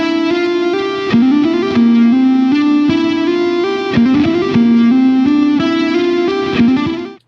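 Electric guitar with a distorted tone playing legato speed bursts, one bar of slower hammer-on and pull-off runs followed by a faster flurry of notes, loud and continuous with no talking.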